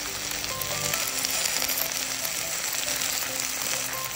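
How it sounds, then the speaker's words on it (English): Red chili frying in oil for an Indian spinach dish gives a steady, moderately loud sizzle that holds evenly throughout, with faint tonal sounds beneath and no talking. "this is when you might just need a little bit more oil so that you can fry the chili"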